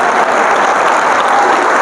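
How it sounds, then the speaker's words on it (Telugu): Loud, sustained applause from an audience at a students' motivation class, dense steady clapping filling the whole moment without pause. "గట్టిగా చప్పట్లు కొట్టండి"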